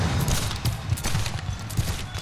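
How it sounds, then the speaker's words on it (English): Union gunners firing point blank in a Gettysburg battle reenactment, as Pickett's Confederate troops break over the wall: a loud, ragged fusillade of overlapping shots and crackling reports, close and sustained throughout. "Union gunners fire point blank."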